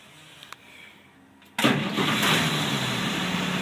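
A 1992 Blue Bird International school bus with a diesel engine cranks briefly, then catches and settles into a loud, steady, close idle, with no talk over it.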